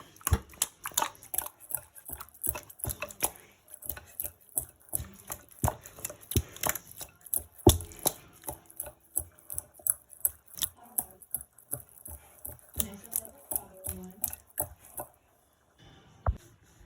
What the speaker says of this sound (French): je vais commencer à découper la tomate en gros morceaux